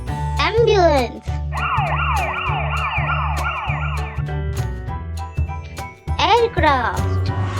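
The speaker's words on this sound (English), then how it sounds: "Ambulance." An ambulance siren wails in a loud, repeating two-tone sweep, alternating between fast yelping bursts and a steady hi-lo pattern, mixed with a voice naming vehicles for kids.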